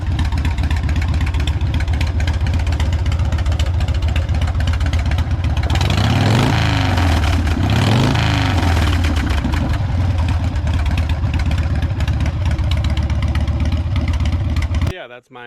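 A 1992 Harley FXR motorcycle engine runs steadily and loudly throughout, with a brief swell of revving in the middle before settling back to idle and cutting off abruptly at the end.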